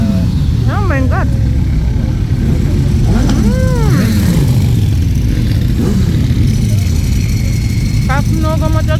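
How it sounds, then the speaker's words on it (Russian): Motorcycles and other traffic moving along a busy French town street near a market, engines droning loudly and steadily with a rising rev passing close, under the chatter of people nearby. "Как много мотоциклистов."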